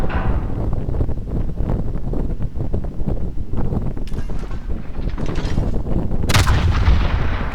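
Warship guns firing in the naval combat video game World of Warships, heavy booming salvos rolling continuously under wind and engine rumble, loud and close, ending in a sharp blast.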